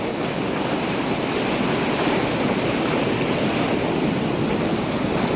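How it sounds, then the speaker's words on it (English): Atlantic Ocean waves wash steadily onto an eroded shoreline, a constant loud broadband roar of surf mixed with wind buffeting the microphone, with no voices. "it is the Atlantic Ocean"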